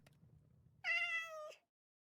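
A single clear cat meow in Minecraft, a drawn-out tonal call lasting under a second, following a faint low murmur, then silence.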